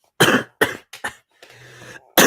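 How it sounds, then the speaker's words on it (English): Close, loud coughing fit: several harsh bursts in a row, a short wheezy breath, then another cough at the end. "I had like a little coughing fit just then"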